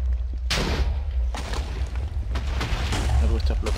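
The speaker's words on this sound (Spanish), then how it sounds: "Algo está explotando arriba. Está explotando en la parte de arriba de mi casa" Deep booming blasts go off above a house in a Terraria and Minecraft modpack game, several heavy explosions spaced across a few seconds over a constant low rumble, with someone talking alongside them.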